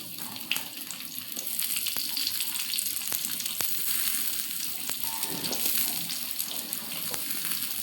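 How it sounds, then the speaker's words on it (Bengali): Chopped chili and onion fry in oil on a tawa griddle, a steady loud crackling sizzle with scattered sharp pops and spatters, continuous and close, with no talking. "এবার আমি আবারও একটু তাওয়ার মধ্যে তেল দিয়ে মরিচ পেঁয়াজ কুচিগুলো হালকাভাবে একটু হালকা ব্রাউন কালার করে ভেজে নেব।"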